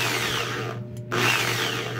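A Bosch power drill runs after its carbon brushes were replaced, a steady close motor whine that briefly cuts out near the middle, then spins back up and keeps running alone.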